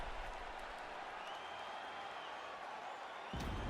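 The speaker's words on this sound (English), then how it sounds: "So the crowd voicing its appreciation after that round." A UFC arena crowd applauds and cheers between rounds of a bantamweight title bout, a steady broad wash of clapping heard at a distance, with a sharper swell near the end.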